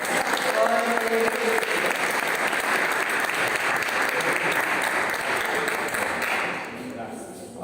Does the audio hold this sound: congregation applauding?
yes